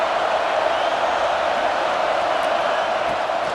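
A stadium crowd roars in EA Sports College Football 26 during an LSU Tigers versus Washington Huskies game, a loud, steady wash of massed voices with no breaks.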